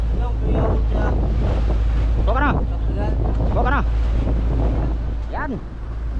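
A newly repaired fishing boat runs at sea with a steady low engine drone, wind buffeting the microphone and water rushing past, while voices talk over it.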